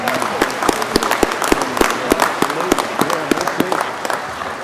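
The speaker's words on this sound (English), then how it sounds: "Let's give them a round of applause." Applause at a Mississippi Highway Patrol cadet class graduation ceremony, crowd clapping with distinct sharp, hollow claps standing out over a lighter wash, and some speech-like sound underneath.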